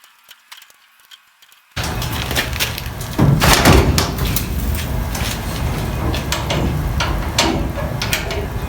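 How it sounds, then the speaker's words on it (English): A ratchet strap being cranked tight around a very rusty Volkswagen Bus body, heard as a busy, continuous stream of clicking pawl and rattling metal that starts abruptly and keeps going without any voices. "We'll tip it over and ratchet it tight on the other side"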